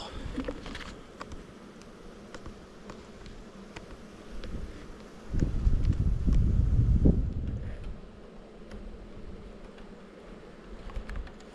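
Honey bees hum around a five-frame queen-rearing cell builder hive in spring. A thin, continuous buzz with wind noise swells into a louder, closer burst midway through, then settles back to a soft drone.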